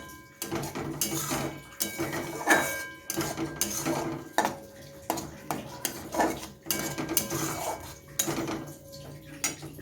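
A metal spoon scrapes and knocks in a pan as a paste of tomato, onion and poppy seed is stirred with a little water, making repeated clanks and scrapes in an uneven rhythm at close range.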